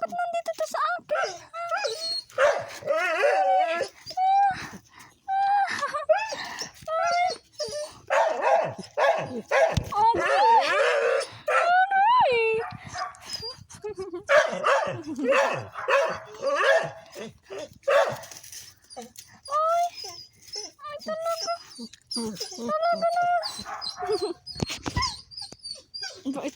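Puppy barking, yipping and whimpering in repeated bursts close by, high thin cries coming and going between pauses, with someone talking softly to it in between.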